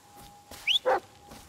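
A dog in the Blair Witch video game gives two short whimpering yips, faint against a quiet background.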